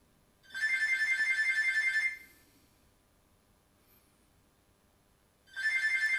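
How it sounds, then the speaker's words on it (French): A telephone rings indoors in two bursts of electronic ringtone, a long trill at the start and another beginning near the end, with quiet between them. "c'est le téléphone"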